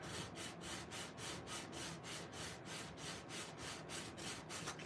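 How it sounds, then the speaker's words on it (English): Steady rhythmic scuffing of a Dollar Tree background piece, a dry abrasive rub repeating about three to four strokes per second, close and moderately quiet with no talk. "And you see I'm scuffing off the surface right here."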